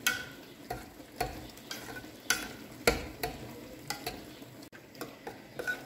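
A spoon scrapes and stirs cooked cream with margarine in a pot on the stove, making soft, close, irregular scraping and light knocks against the pot at a low level.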